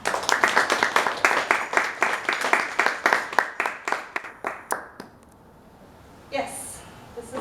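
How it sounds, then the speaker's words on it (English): An audience at a poetry reading applauds in a dense, lively burst of many hands clapping, which thins out and stops, followed by a brief murmur near the end. "I just wanted to give another round of applause for everyone that performed before me."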